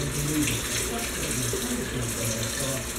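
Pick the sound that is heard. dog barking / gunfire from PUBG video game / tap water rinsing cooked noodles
tap water rinsing cooked noodles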